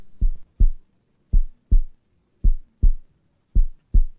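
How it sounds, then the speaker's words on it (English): A pounding heartbeat sound effect thumps alone and loud in four evenly spaced lub-dub pairs, each a deep double thud separated by silence. "That is my actual heartbeat pounding."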